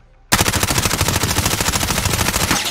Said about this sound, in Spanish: vamos a intentar con ambas armas a una distancia de aproximadamente 11 metros.